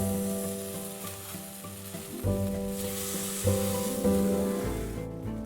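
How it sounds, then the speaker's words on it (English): Rice pressed into a pan with a miso mixture sears over high heat with a loud, constant sizzle, swelling briefly a few times as the patty is moved, and no one speaks. "Carefully flip again and sear for another minute."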